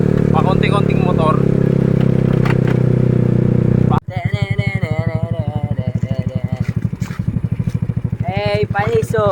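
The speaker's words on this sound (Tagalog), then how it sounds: "Walang ibang dumadaan dito kundi ano, mga motor lang." Motorcycles travel a rural highland road through cornfields in Tigbao, Ligao City, Albay, their mid-pitched engines loud and close, one rumbling steadily before another passes nearer with a choppy, pulsing idle and revving, as people talk over them.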